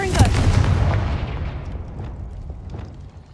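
Confringo fire spell blast from Hogwarts Legacy: a sharp, loud explosive burst with heavy booming low end, followed by a rumbling tail that gradually dies away over about three seconds.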